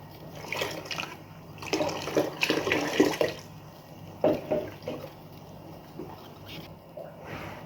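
Water poured into dark injera batter in a home kitchen, several uneven splashing gurgles in short bursts with pauses between, fairly close and moderately loud over a quiet background hum.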